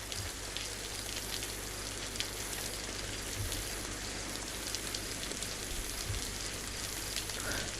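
Steady rain falls in DayZ, a constant hissing patter drumming on surfaces around a small shed, with a low continuous rumble underneath and no voices.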